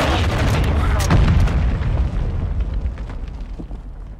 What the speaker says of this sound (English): First missile deployed.